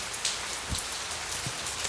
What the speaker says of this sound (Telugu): రాజమ్మా, ఏంటమ్మా ఈ వర్షంలో ఈ రాత్రిపూట ఏంటి?